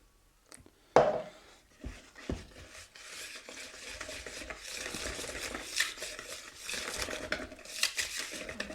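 Pancake batter made with fermented milk being mixed in a bowl: a sharp knock, then continuous close scraping and stirring with irregular wet strokes, moderately loud and without speech.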